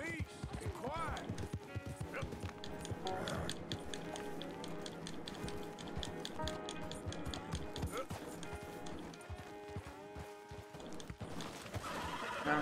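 A horse in the video game Red Dead Redemption 2 whinnies loudly and its hooves clip-clop over a dense game soundscape, while someone talks over it throughout.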